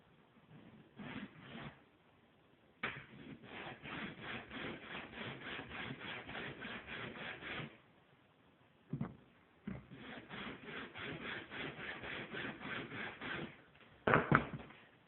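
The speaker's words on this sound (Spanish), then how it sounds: "e lijando" Coarse sandpaper rubbed by hand back and forth along the end of a wooden stick, close and rhythmic strokes in several runs separated by short pauses.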